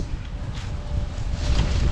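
Gusty wind buffets the microphone with a low rumbling roar that swells stronger toward the end.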